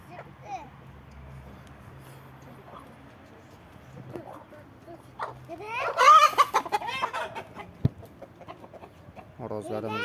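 Plymouth Cross Silver chickens cluck and squawk in a lively burst midway, close and fairly loud, with quieter clucks and someone talking around them.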